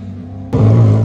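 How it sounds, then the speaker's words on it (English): A Porsche race car at Road America comes through in about a second, with a low rumble that jumps abruptly louder partway through and holds as it passes close by. "Oh, there's that Porsche again, the McNeil one."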